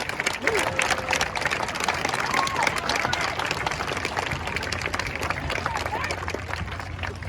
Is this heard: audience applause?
yes